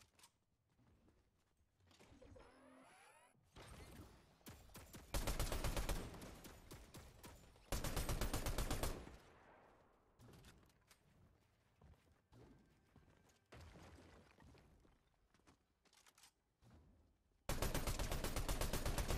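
A turret firing in a video game: long sustained bursts of rapid automatic gunfire, loud and dense, broken by quieter stretches of softer shots and game noise, with no voices.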